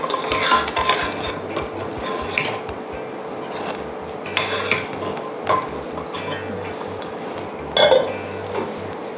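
A spoon stirs coconut fish curry for khanom jeen nam ya in a pot, giving repeated scraping swishes and metallic clinks, close and fairly loud, with a low hiss underneath.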